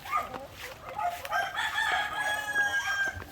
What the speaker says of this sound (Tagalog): So ito mga ka-farmers, yung mga manok na pinaliguan ko.